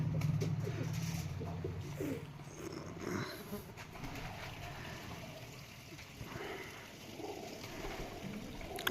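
Soft, low pigeon coos sound near the start amid a quiet outdoor background with faint rustling and distant ambient noise.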